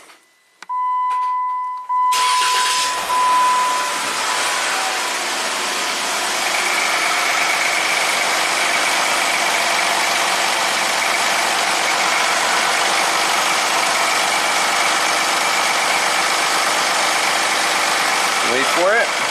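A beep, then a Jeep Rubicon engine with an exhaust camshaft fault cranks and catches, settling into a steady, loud idle that runs on with a constant low rumble.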